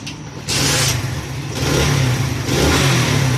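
Up close, a motorcycle engine with an accelerator fault runs loudly and is revved in three rising bursts about a second apart, each surge swelling over a steady running drone, with no voices.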